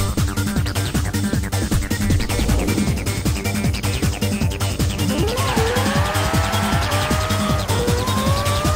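A Mazda MX-5 tuned for low downforce launches hard in Forza Horizon 4, its engine note rising steadily through the gears over skidding tire squeal, loud and continuous throughout.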